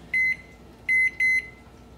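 A microwave oven heating a bowl of water gives three loud, clear electronic beeps: one, a short pause, then two close together, with no talking.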